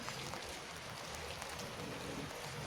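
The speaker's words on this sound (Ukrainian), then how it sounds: "йде дощ, і вся вода відводиться собі внизу, так щоб по жолобу і стікає на вулицю" Rain patters steadily on a large house roof with a wide drainage pipe, a dense, even hiss of drops with no voices.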